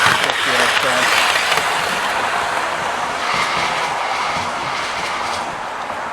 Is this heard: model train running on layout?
yes